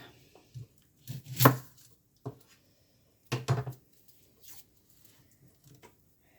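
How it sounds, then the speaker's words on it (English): A knife cuts an onion on a board in a few separate, unhurried chops and taps, close and fairly quiet, with pauses of near silence between strokes. "And now we cut up the onion."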